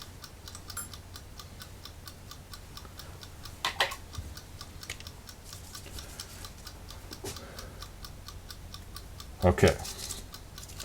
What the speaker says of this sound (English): It's still making a ticking noise